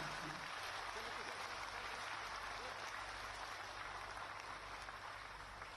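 Sustained applause from an audience at an official ceremony stage event, a dense, even wash of clapping that carries on steadily throughout, fairly faint and distant.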